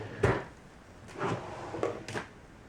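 A drawer in a craft room being pulled open and handled, with several short wooden slides and knocks: one sharp clunk, then a longer sliding scrape and two quick bumps near the end, close and quiet.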